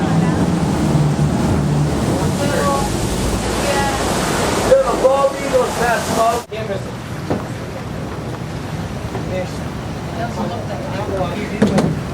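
Ocean surf and wind noise on the water in Alaska, heard from a boat, a steady broadband wash with microphone buffeting, a brief dip midway, and faint voices in the background.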